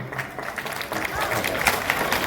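Applause from an audience at a state-level naat competition in Aurangabad, a steady patter of clapping running through the whole stretch with some crowd noise mixed in.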